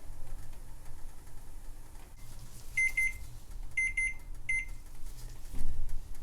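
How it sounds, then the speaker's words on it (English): A five-minute kitchen timer beeps in short high-pitched bursts, three quick clusters over a steady low hum of background noise. "Okay, 5-minute timer went off."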